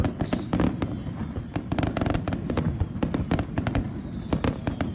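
Fireworks bursting in Tokyo, Japan, for a US Independence Day celebration, a rapid irregular series of loud sharp cracks and pops, some in quick clusters, over a steady outdoor rumble.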